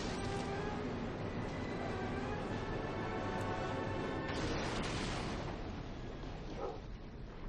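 A runaway train crashes in the Resident Evil 0 video game, a loud, sustained metallic roar and grinding rumble that swells into a heavy smash and then eases slightly.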